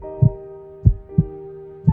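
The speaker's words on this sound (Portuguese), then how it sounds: "mas o som ritmo de um coração batendo" Low, muffled human heartbeat thumps, dulled as if through wood, repeat at a slow, even pace over a soft steady hum.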